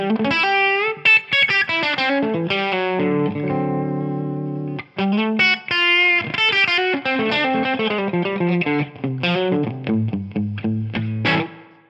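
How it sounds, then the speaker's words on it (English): Distorted electric guitar played through a modeler with a touch of room reverb, a run of chords and single notes ringing with a short ambient tail, loud and upfront with no talking. "So I like to always add a little bit of room reverb just to get people started."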